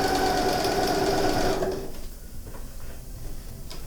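A sewing machine stitches a zipper pouch with bias binding in a steady, fast whirring run that stops after about a second and a half, leaving quiet room noise.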